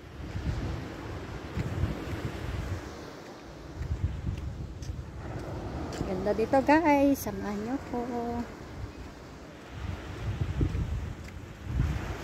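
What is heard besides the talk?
strong ocean waves and wind at rock formation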